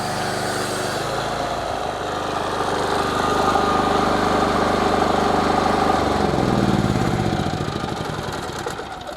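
A new generator powering a mobile pressure-washer detailing setup, running as a close, steady small-engine hum that swells midway and changes pitch toward the end, no speech.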